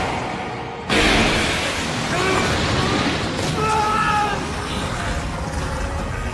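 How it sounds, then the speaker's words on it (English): A massive explosion in an anime battle bursts in loudly near the start and roars on as a sustained, broadband rumble with crackling debris throughout. "Massive explosion!"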